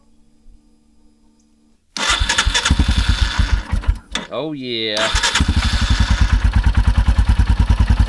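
A Royal Enfield Himalayan motorcycle engine cranks over and fires into a steady, loud thumping idle after a quiet start. A brief voice sounds during the starter whir.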